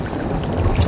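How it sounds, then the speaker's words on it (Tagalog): Strong wind gusting over a lake, Laguna de Bay, rumbling as a steady low buffeting against the microphone, loud and close for a brief moment with no voices. "Lakas lang ng hangin, eh."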